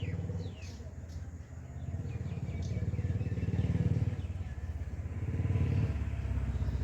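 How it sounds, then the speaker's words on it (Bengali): Cars and motorbikes passing on a road, a rumbling engine drone that swells and fades as vehicles go by, with faint bird chirps above it and no clear talking. "গাড়ি বাইক শব্দে একদম বাঁচা গেল না"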